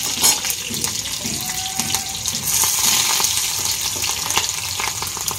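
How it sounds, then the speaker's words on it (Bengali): Chillies and onion fry in hot oil for a pasta dish, giving a loud, close, steady sizzle and crackle with scattered sharp pops and a light clatter, no talking. "তেলে লঙ্কা দিয়ে যখন কটকট করে ফাটবে, পেঁয়াজ দিয়ে দাও"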